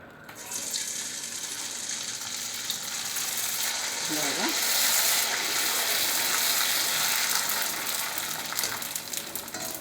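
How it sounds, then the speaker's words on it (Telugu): Sabudana (sago) vadiyalu deep frying in hot oil, a continuous loud bubbling sizzle that swells in the middle as more pieces go in, with faint clinks of a utensil. "ఇలాగా ఇలా కొంచెం కొంచెంగా వేసి మనం ఇలా డీప్ ఫ్రై చేసుకుందాం"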